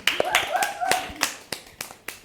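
Scattered, sparse hand claps ring out in a classroom, a handful of sharp separate claps with voices chattering underneath.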